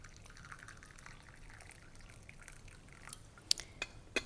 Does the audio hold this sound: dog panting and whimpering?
no